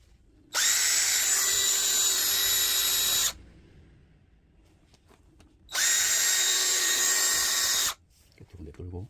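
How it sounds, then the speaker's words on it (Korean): A power drill bores holes through an earthing shoe, two long steady high whining runs of a few seconds each separated by a quiet pause, loud and close. "드릴로 뚫어요"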